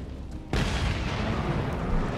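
A sudden, loud, roaring explosion in the video game Just Cause 3 bursts in after a brief quiet moment, then rumbles on as a dense, sustained blast.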